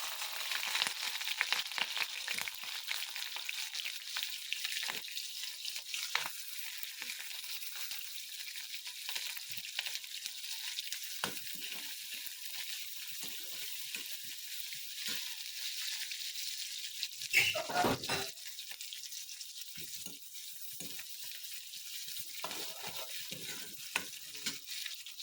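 Onions sizzle steadily in a small amount of hot oil in a pan for vegetable Maggi, a continuous close frying hiss with occasional stirring scrapes and clinks throughout.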